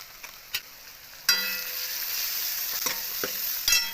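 Curry leaves, turmeric and spices frying in hot oil with crushed peanuts for a Vidarbha-style chilli dish: a sharp sizzle bursts out, then a steady hiss continues with occasional spoon scrapes and taps against the pan.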